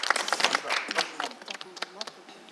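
Audience clapping along in time for a singer at a Kyrgyz music TV show, the quick, fairly steady claps rolling under and around talking voices.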